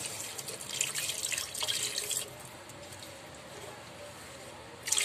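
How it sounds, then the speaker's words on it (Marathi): Water from blended crab claws pours into a Malvani crab curry, a bright splashing stream for about two seconds that then drops to a quieter trickle, with a brief splash again at the end. "आता मी आपलं हे मिक्सरला लावलेले डेंगे आहेत त्याचं पाणी टाकते"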